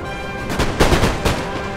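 Musket volley fire in the video game Napoleon: Total War, several booming rifle discharges overlapping into a rolling crackle of gunfire at mid distance, with no speech.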